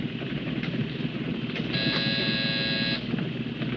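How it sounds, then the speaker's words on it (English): Buzzer pressed aboard a train in a classic crime film: a steady harmonic electric buzz of about a second and a half, standing out above the low, continuous rumble of the moving train. "Hit that buzzer."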